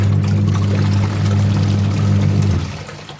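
Water gushes out of an IFB washing machine as it drains after a drum-cleaning cycle with descale powder, a loud, steady pouring rush that fades toward the end.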